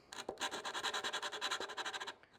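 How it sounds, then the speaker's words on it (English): Edges of a servo hole in a model aircraft being hand-sanded, a quick run of even rasping strokes close up, about twenty in a steady rhythm, no talk. "sand all these edges until it fits"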